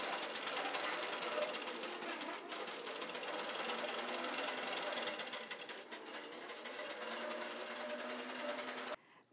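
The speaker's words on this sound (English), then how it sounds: "So I have stitched out two full rows" A Quilter's Creative Touch 5 computerized quilting machine stitches a nested pantograph design across a quilt, its fast needle chatter running steady and close, with a brief pause near the middle and an abrupt stop at the end.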